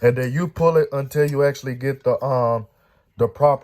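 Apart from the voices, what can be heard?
No everyday noise stands out behind the speech.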